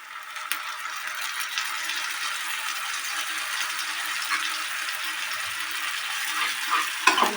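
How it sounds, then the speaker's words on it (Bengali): Tomato paste added to fried onion, ginger and garlic sizzles steadily in a pan while being stirred, with soft scraping and a few clinks near the end. "এটা আমি ভালো করে মিক্স করে কিছুক্ষণ কষাবো"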